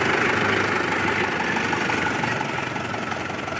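A tractor engine idles with a steady, rumbling chug, loud and close, running without change, while a cart is being hitched to it.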